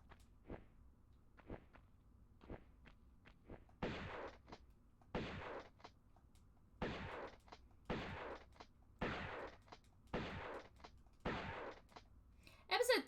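Gunshots ring out in the Tomb Raider video game, a series of sharp single cracks spaced about a second apart, growing stronger midway and then settling into a steady repeating rhythm.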